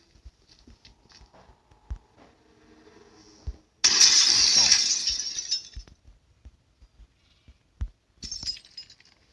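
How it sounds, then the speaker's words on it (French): In the Granny 3 video game a window is blown up in a cellar, a sudden loud burst of shattering glass that decays over about two seconds, with scattered footsteps and thuds before and after. "ici on peut exploser la vitre"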